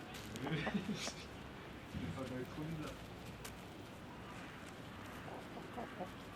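Hens at a school clucking softly in short bursts, with people talking over and around them in a noisy outdoor setting.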